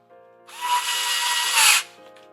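A Parkside electric screwdriver drives a screw with its power limited, a single close whirring burst of about a second and a half that rises slightly in pitch before stopping abruptly, with no voices.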